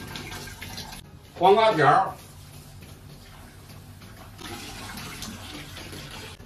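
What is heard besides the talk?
washing cucumber strips under running water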